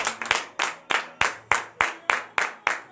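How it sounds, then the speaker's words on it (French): A congregation at a morning prayer service in Benin claps in a steady, loud rhythmic beat, about three claps per second, each sharp hit ringing briefly, with no cheering voices standing out. "donner de vives acclamations à Dieu"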